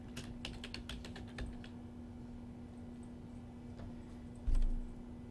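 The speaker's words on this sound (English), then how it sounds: "And I can type the title." Keys tapped on a computer keyboard while a title is entered, a quick burst of clicks early on and then sparser taps, close and fairly quiet over a steady low electrical hum.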